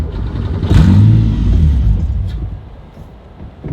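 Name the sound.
Subaru EZ30R engine in Porsche 911 running then dying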